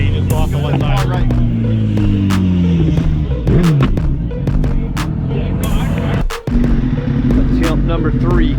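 A Suzuki GSX-R1000 motorcycle idles and revs loudly on a street during a roll race, its engine tone rising and falling, with a brief cut in sound near the end before the engine note picks up again.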